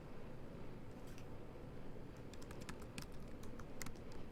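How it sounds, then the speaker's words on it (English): Keys clatter on a computer keyboard as a name is typed, quiet and close, with sparse taps at first that turn into a quicker burst of clicks, with no voices. "they can type their name"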